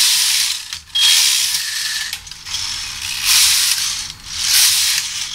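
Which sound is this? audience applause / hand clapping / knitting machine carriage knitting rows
knitting machine carriage knitting rows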